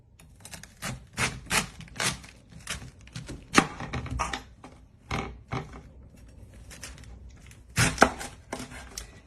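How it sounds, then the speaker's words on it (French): A knife chops through a whole cabbage on a board, making a run of crisp, irregular cuts with short pauses, close and fairly loud, with no talking. "Alors, je vais couper mon chou."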